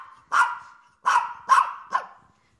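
A small Maltese dog barks four times in quick, close, loud yips, spaced about half a second apart, with brief silence between them.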